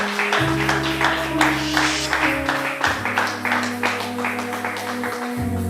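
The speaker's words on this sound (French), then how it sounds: "Acclame très fort le Seigneur" Church congregation loudly acclaiming the Lord, a sustained mass of cheering voices and clapping over a held organ or keyboard chord, continuous and close, with no single speaker standing out.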